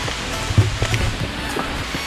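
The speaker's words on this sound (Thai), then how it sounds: "และแล้ว ฝน ก็ตกด้วยจ้า" Rain falling at a coral cave reached by bamboo raft on a reservoir lake: a soft, steady wash of rainfall with scattered low thumps and rustles nearby, no voices.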